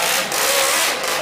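A two-cylinder four-stroke engine in an RC car with a custom exhaust revs in second gear, a loud, close, steady buzzing roar over one short burst.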